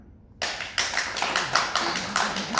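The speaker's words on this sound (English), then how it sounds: "By applause, whose favorite of the soundtracks was season 1?" A convention panel audience at San Diego Comic-Con bursts into applause in a large hall, with several swelling waves of clapping and cheering sustained over a couple of seconds after a short quiet start.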